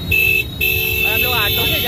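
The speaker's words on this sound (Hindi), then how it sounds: "ये देखिए यहाँ की ट्रैफिक बहुत ही जबरदस्त है।" Heavy Chennai street traffic heard from inside an auto rickshaw, with a steady engine drone, a sustained horn blast and more honking under someone talking.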